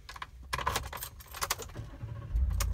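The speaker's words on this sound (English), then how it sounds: "I'm just going to start the truck for you." Keys jangle close by in a 2018 Ford F-150 XLT FX4 SuperCrew with a V8, then the engine cranks and catches near the end, settling into a low rumble.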